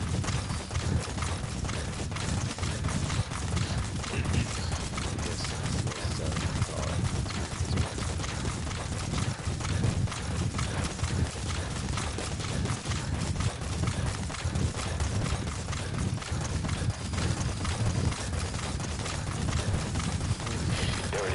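Horse hooves gallop in Metal Gear Solid V: The Phantom Pain, a fast, continuous clip-clop that stays steady and loud for the whole stretch, blended into dense game ambience with no pauses.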